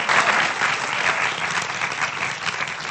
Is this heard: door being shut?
no